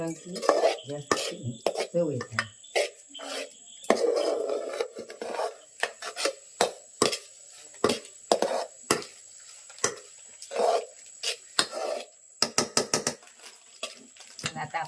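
A spoon scraping and stirring cashews into thick homemade mango preserve in a dish, rasping metal-on-dish strokes in irregular bursts with sharp clinks, close and fairly quiet.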